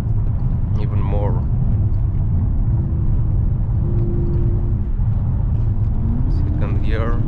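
BMW E65 745i V8 accelerating hard at full throttle in second gear, a steady loud low-pitched engine roar rising in pitch across the pull, with someone talking briefly over it.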